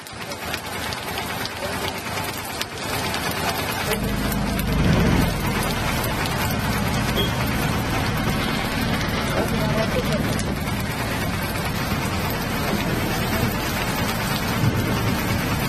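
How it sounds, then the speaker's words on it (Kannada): Heavy pre-monsoon rain pouring in Chikkamagaluru near Charmadi Ghat, a dense, constant roar of downpour drumming on surfaces close by, swelling briefly midway with low rumbles, and a voice talking over it. "ಚಿಕ್ಕಮಗಳೂರು ಜಿಲ್ಲೆಯ ಹಲವು ಕಡೆ ಭಾರೀ ಮಳೆ ಸುರಿದಿದೆ"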